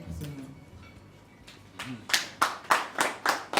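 Audience clapping at a gathering, starting after a brief stretch of quiet talk and building into a few slow, distinct, fairly close claps spaced in a steady rhythm.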